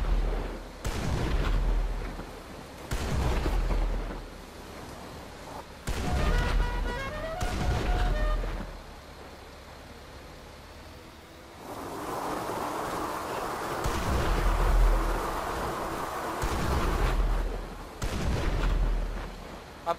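Gunfire and explosions from GTA 5 Online: loud booming blasts and bursts come in repeated clusters, with a sustained rumbling stretch midway, all close and prominent.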